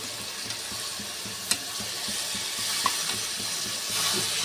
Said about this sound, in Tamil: புதினா நல்லா ஃப்ரை பண்ணி கிளறி